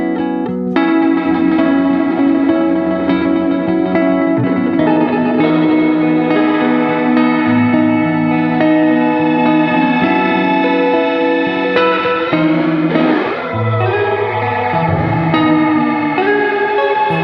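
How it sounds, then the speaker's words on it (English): Sustained notes pass through a digital reverb effects pedal whose smearable taps blur each note into long, washing tails that swirl and shift. The sound is continuous and fairly loud, with no voices. "Reverb on this pedal is interesting,"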